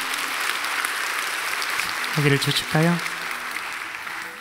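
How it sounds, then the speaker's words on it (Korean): Church congregation clapping in applause for a newborn's blessing during a baby dedication service, a steady broad wash of claps running throughout, with a short spoken question rising over it near the end. "또 육아에 정말 수고 많이 하셨는데 우리 경례의 박수 하도록 하겠습니다."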